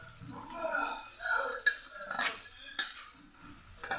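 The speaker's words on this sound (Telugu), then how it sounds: "ఇప్పుడు ఆనియన్స్ వేసుకున్నాను." Chopped onions frying in hot oil in a pan for a Telugu-style raw prawn fry, with a soft continuous sizzle and occasional stirring clinks and scrapes, fairly close and steady throughout.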